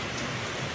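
Heavy rain pours down hard in a storm near a house, a steady dense hiss of drops drumming on surfaces with no voices.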